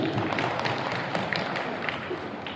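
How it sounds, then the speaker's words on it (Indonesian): Steady applause from a crowd, a dense wash of clapping that holds at an even level throughout without pause. "Tepuk tangan untuk semua."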